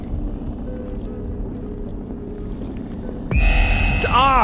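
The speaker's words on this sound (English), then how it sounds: "Oh god, that whistle!" A train whistle in the VR horror game Little Nightmares VR starts late and shrill, with wavering tones rising over a low rumbling hum.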